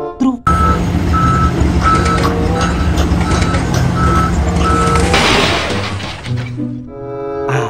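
A toy loader truck loading soil and stones plays loud, evenly spaced reversing beeps over a constant mechanical electronic din, then ends with a crashing, shattering sound.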